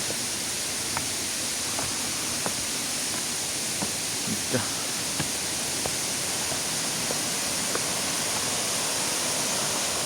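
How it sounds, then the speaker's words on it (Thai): Steady, rushing waterfall noise fills the whole stretch, broad and constant, with faint scattered clicks and knocks beneath the roar. "ตรงนี้ก็จะเป็นน้ำตกชั้นแรกๆนะครับ"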